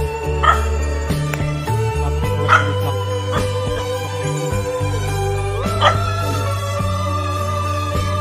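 A dog barks in three sharp, spaced outbursts over a humming, tonal background, with a few softer yips in between.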